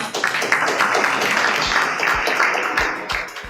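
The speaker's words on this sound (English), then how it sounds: "Let's welcome Kelly up on stage with a round of applause" A round of applause from a crowd at the Huobi Global Elites Fireside Workshop 2018, steady and full throughout, with a few low thumps beneath.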